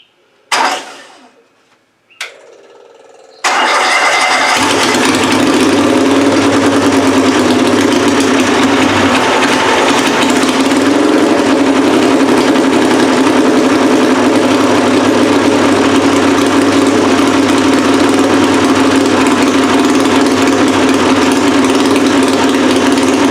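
A tractor-pulling engine fresh from head gasket replacement cranks briefly, then fires and settles into a loud, steady rough idle that runs unbroken to the end.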